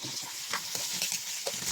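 Onion sautéing in a pan while cooking ginisang ampalaya, a steady bright sizzle with occasional stirring scrapes, close and continuous with no talk.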